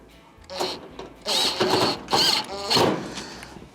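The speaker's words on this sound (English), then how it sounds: "go to the other side, line it up, and reinstall our second screw" A screw is run back into a panel during a Whirlpool stove repair on a 6-inch element. The tool gives four short mechanical whirring bursts close by, separated by brief pauses.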